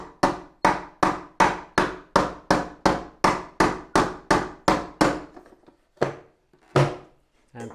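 Hammer tapping metal hinges into a wooden instant box camera, a steady run of about fifteen evenly spaced sharp knocks, then a pause and a couple of isolated taps, close and moderately loud.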